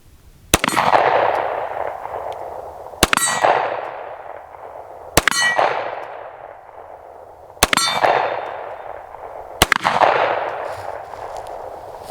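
A Girsan Witness 2311 pistol, loaded from a Springfield magazine, fires five evenly spaced shots outdoors, each sharp crack followed by a ringing clang from the steel target that decays before the next.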